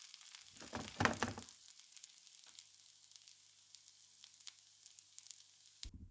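Bread croutons toast in a hot pan, a loud sizzling burst near the start that settles into a steady, faint frying hiss before a final stir.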